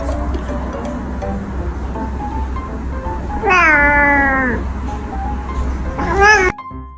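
A curious cat gives two drawn-out meows, close and clear, the first long and sliding, the second shorter and higher near the end, over a low steady background hum.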